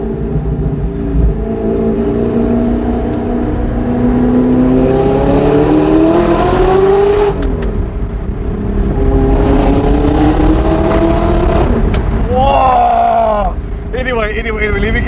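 A straight-piped, mid-mounted, four-wheel-drive Audi R8 with a 4.2-liter V8 revs loudly and close up, its engine note climbing and falling in long sweeps before a few sharp, rapid throttle blips near the end.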